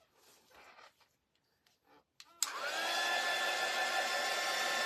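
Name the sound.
hair dryer drying craft project coat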